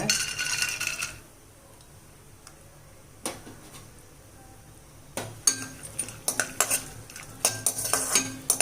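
Cashew pieces being stirred and roasted in ghee in a pan for pumpkin halwa, with spoon scrapes and light metallic clinks coming in bursts, quieter in the middle and busier toward the end, close and moderately loud.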